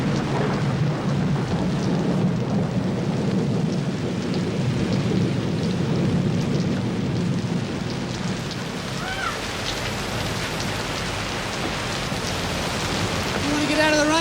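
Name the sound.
rain and thunderstorm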